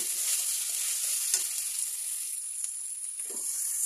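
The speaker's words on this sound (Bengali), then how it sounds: "এখন আমি তরকারিগুলো দিয়ে তরকারিটা ভালো করে কষিয়ে নেব।" Vegetable curry stir-fried in a pan for a home-style fish curry lunch, a steady close sizzle with occasional scraping stirs, continuous with no voices.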